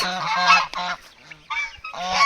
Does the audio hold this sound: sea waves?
no